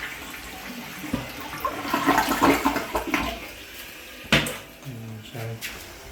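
A toilet flushes during a leak test after repair of the drain piping in a downstairs-leaking apartment, with rushing, gurgling water up close and a few sharp clunks and knocks from the bowl and lid near the end.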